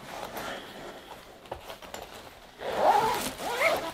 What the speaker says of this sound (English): Yeah, the zipper works.